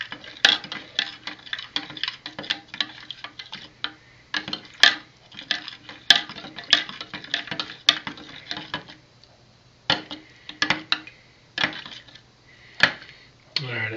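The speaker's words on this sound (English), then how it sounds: "we'll just give this a stir to dissolve it" A metal spoon stirs in a vessel to dissolve a wine kit packet, giving a steady run of quick, light clinks and taps against the sides, close and moderately loud, with brief pauses and some faint talk.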